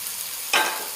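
Scrambled egg being stirred into chicken macaroni in a pan, heard as a single short, loud scrape and sizzle burst after a quiet hiss.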